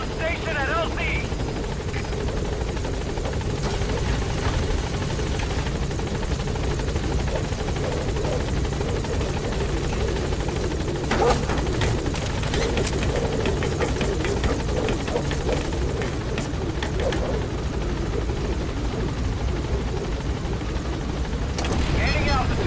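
The Pequod helicopter in Metal Gear Solid 5 thrums steadily with a continuous rotor and engine drone, loud and unbroken throughout, with in-game radio voices speaking over it.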